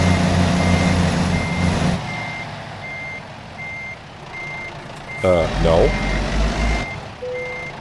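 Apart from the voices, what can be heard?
truck reversing beeps while backing up, American Truck Simulator video game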